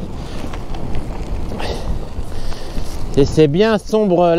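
Strong wind blows hard outdoors during rain, a continuous rough rumble buffeting the microphone throughout, while a person speaks French over it.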